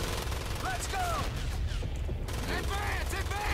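Rapid bursts of gunfire from a Pacific-theatre World War II shooter video game, Medal of Honor: Pacific Assault, crackling continuously under voices and other in-game noises, with a short lull midway.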